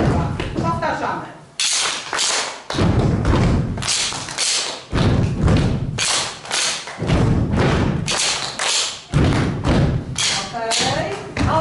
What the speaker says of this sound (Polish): Jest dwa razy stuknięcie w łapki, czyli i noga prawa, lewa.